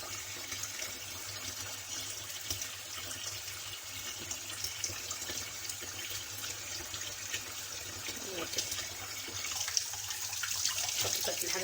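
Water runs steadily from a kitchen tap, a continuous hissing splash with slight fluctuations throughout, moderately close and unaccompanied by speech.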